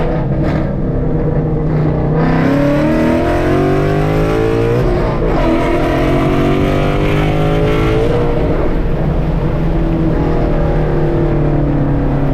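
A Ford Mustang GT fitted with a drag pack accelerating hard in second gear, a loud, steady, close engine roar whose pitch climbs and dips through the run, with no talk.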